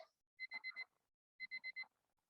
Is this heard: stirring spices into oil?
no